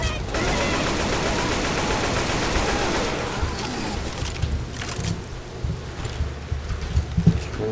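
AK rifle gunfire in the video game Left 4 Dead 2, a dense, loud continuous roar of shots for the first few seconds that thins into scattered bursts over game noise, with a voice talking.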